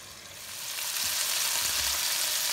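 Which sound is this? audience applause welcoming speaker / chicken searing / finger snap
chicken searing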